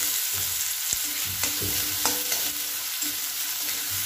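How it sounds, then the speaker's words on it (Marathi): Onion frying until golden in a pan for a Marathi bamboo shoot dish, a constant close sizzle with scattered scrapes and taps of a spatula stirring, no talking. "सोनेरी रंग येईपर्यंत आपण कांदा परतून घेणार आहोत।"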